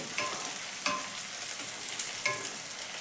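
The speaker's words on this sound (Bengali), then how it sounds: "পেঁয়াজটা যখন ভাজছি এর ভেতরে তখন কাঁচা লঙ্কাগুলো দিয়ে দিলাম" Onions and green chillies frying in a pan, a steady close sizzle broken by three or four sharp scraping stirs of a spatula, with no talking.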